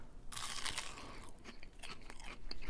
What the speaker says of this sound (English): Let's do an initial kind of just crunch test first.